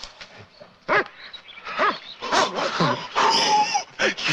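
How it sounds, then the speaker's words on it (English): A dog whimpers and yips in short bursts, then lets out sharper barks, close by, with people talking around it. "That's a dog."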